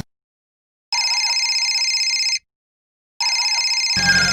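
Phone ringtone, two electronic bursts of warbling trills separated by a short silence, clear and fairly loud, followed by a brief noisy rustle.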